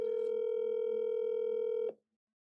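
An outgoing phone call rings unanswered, a steady electronic tone held for almost two seconds before cutting off abruptly into silence.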